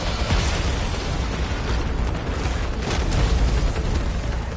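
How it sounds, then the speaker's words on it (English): Heavy cannon blasts from a boss in the PS5 video game Returnal, with dense, continuous booming and rumbling explosions that stay loud throughout and swell in a couple of places. "every time he dodges, he lets off that, like, cannon blast"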